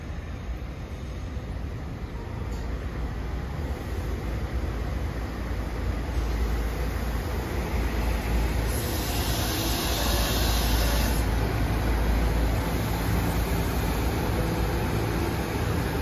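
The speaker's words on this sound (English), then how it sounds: "10:05 arriving is Septa train 708 and ride from" SEPTA train 708 with Silverliner IV cars arriving on the line from Trenton to Chestnut Hill East in Bucks County, Pennsylvania, a steady loud rumble of wheels and motors that builds slightly and holds for the whole stretch.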